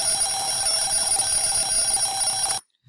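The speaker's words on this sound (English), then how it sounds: "if I want this alarm clock bell to happen at that picture" An alarm clock bell rings loudly and steadily for about two and a half seconds, a continuous bright metallic jangle, then cuts off abruptly into silence.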